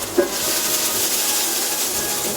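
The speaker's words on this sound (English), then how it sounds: "As you can see, the onion is browning." Diced onion sizzling as it browns in a pan for shepherd's pie, a steady close hiss that holds evenly throughout with no talk.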